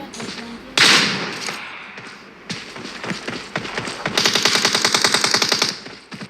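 Loud PUBG Mobile gunfire: single close shots, then a long rapid automatic burst of evenly spaced cracks toward the end, with some talking in between.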